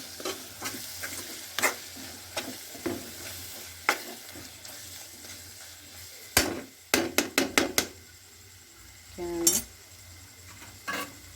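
Meal maker curry stirred in a pan with a spoon, giving irregular scraping clinks and knocks against the metal over a soft sizzle, with a quick burst of rapid taps partway through.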